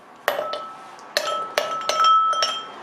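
Ice cubes dropped one after another into a glass for caramel iced coffee, giving several bright, ringing clinks at irregular intervals, close and fairly crisp with no talking.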